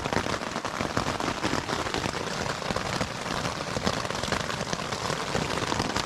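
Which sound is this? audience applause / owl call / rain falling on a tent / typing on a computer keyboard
rain falling on a tent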